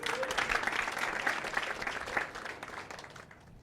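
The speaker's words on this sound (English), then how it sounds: "Let's give her an applause." An audience applauds a presenter at a fireside-chat event, steady mid-level clapping across the whole stretch that thins a little toward the end, with a brief voice heard near the start.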